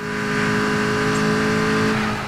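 A weak car's engine revs in a video game, a steady droning tone held loud and close for the whole stretch with no talk over it.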